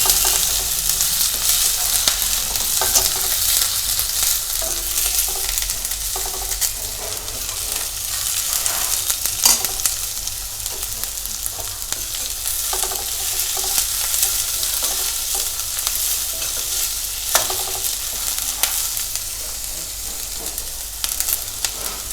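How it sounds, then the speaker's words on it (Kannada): Vegetables and capsicum frying in a pan for veg hakka noodles, a loud continuous sizzle and hiss with occasional stirring scrapes, no voices. "ಆಮೇಲೆ ಕ್ಯಾಪ್ಸಿಕಮ್, ಮೂರನ್ನು ಒಮ್ಮೆ ಫ್ರೈ ಮಾಡ್ತೀನಿ"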